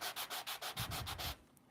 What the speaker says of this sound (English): It's just a really fine sanding block. And you want to come in and you're going to sand.